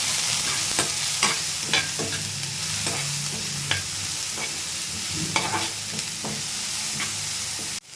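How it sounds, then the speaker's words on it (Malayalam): Kadala curry frying in a pan is stirred with repeated scraping strokes at an uneven rhythm, each stroke rising briefly over a soft, constant sizzle, close and with no voices. "ഇത് നന്നായിട്ട് സ്റ്റിർ ചെയ്യണം."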